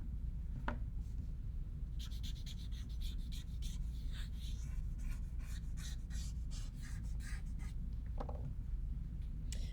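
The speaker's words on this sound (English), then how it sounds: "I'm going to erase this so I can put the teeth in there." A rubber eraser scrubs across a pencil drawing on paper in quick back-and-forth rubbing strokes, close and fairly quiet, with a few soft breaths and no talking.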